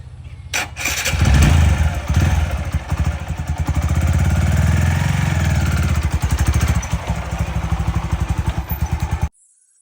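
A motorcycle engine is started by a learner, then revs hard and chugs unevenly as the clutch is let out, loud and close, with rapid firing pulses before cutting off abruptly.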